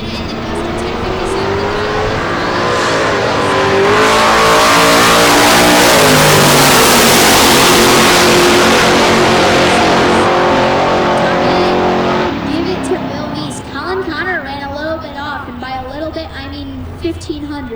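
A Plymouth Duster drag car launches at a nitro drag-racing event, a deafening engine roar that builds and holds for several seconds, then fades as it runs away down the strip, with a track announcer talking throughout.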